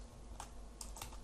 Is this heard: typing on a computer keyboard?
yes